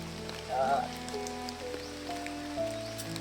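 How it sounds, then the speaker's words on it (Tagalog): Rain falls in a faint, steady patter that continues throughout, with a few brief tonal sounds and a soft voice in the background. "Ay, Yung ulan."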